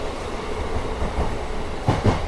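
DEMU passenger train running from Secunderabad, heard from inside as a steady loud rumble with rhythmic wheel clatter over rail joints and a couple of heavier knocks near the end.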